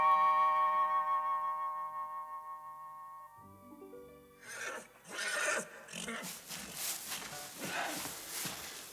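A horse neighs in a royal stable from a Romanian fairy tale. A long, loud whinny with wavering pitch is followed by snorts and rustling movement.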